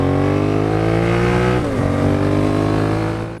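Yamaha TRX 850 motorcycle engine running steadily with a brief dip and rise in revs partway through, a loud continuous drone with no talk.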